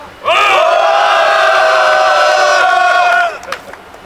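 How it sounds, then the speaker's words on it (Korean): A crowd of labor attorneys at a political rally lets out one sustained loud collective shout lasting about three seconds, then falls quiet with a few scattered voices. "공인노무사 시국선언을 큰 함성으로 시작하도록 하겠습니다"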